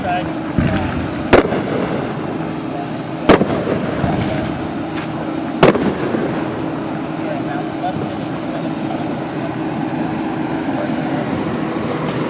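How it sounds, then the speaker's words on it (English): Fireworks going off within city limits during a Fourth of July celebration, with three sharp bangs early on over a steady background rumble of outdoor noise. "Fireworks are legal in the city limits, so we can just have the fireworks off"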